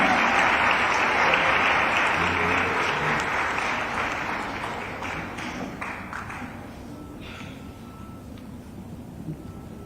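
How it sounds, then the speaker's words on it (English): Audience applause at an institution event welcoming a guest speaker, a dense sustained clapping from a large crowd that slowly thins and fades over about ten seconds. "Let's give her a huge round of applause."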